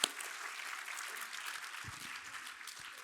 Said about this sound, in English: join me in a round of applause, please, for the speakers today